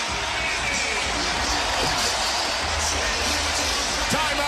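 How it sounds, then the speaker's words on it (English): Crowd noise fills a basketball arena during an NBA playoff game between the Miami Heat and Cleveland Cavaliers, a steady, loud roar of cheering that carries on without a break, with faint court sounds underneath. "Listen to the crowd."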